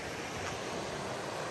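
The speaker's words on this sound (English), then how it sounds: "Water's still flowing pretty elegantly." Water pours steadily at a waterfall beside a muddy woodland trail on a wet winter day, a continuous broadband rushing without a break.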